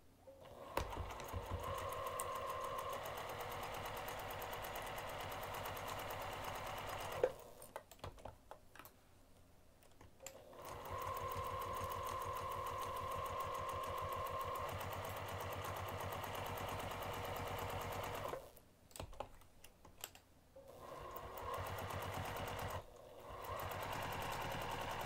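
A sewing machine stitching the side and bottom seams of a fabric pocket on a craft bag, a fast steady mechanical whirr running in long stretches with brief stops between runs, close and clear, no talking.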